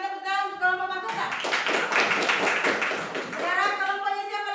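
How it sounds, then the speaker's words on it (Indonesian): A classroom of students claps for a student group, a short burst of clapping in the middle between stretches of a voice speaking over it. "Berikan tepuk tangan untuk kelompok mahkota."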